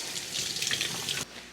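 Potatoes are rinsed under a running kitchen tap, a steady close splash of water that stops abruptly near the end.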